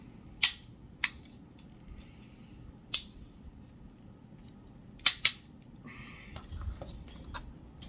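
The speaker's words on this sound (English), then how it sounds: "I'm popping out his guns" Plastic guns pop out of an action figure's parts in five sharp, close snaps, two of them in a quick pair, spread over a quiet background.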